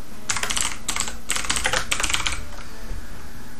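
Fingers type a name on a computer keyboard in four quick bursts of close, crisp key clicks, then stop, leaving a steady background hiss.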